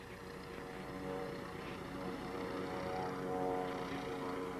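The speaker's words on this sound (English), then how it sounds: "This is Doug Jardine taking off for his aerobatic competition at Borrego Springs Airport." A Pitts Special aerobatic plane takes off at Borrego Springs Airport for an aerobatic competition. Its propeller engine gives a steady, loud, close droning buzz with rich harmonics that swells slightly near the end, with no voices over it.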